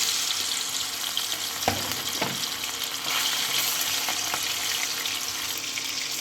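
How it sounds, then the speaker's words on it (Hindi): Fish fries in hot oil in a pan, giving a steady hissing sizzle with a few sharp clatters and spatula knocks, heard up close with no voices. "एक तरफ जब तक मछली फ्राई कर रहे हैं अभी"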